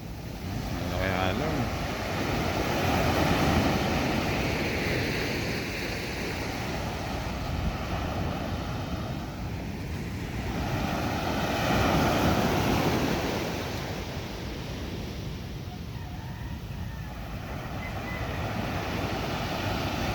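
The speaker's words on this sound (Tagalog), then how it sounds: "lagabog ang alon o konti tuloy lumawat ng bangka" Large sea waves surge against a wooden outrigger fishing boat far out at sea, nearly swamping it; a continuous roaring wash of water and wind rises and falls in slow swells, with occasional faint voices.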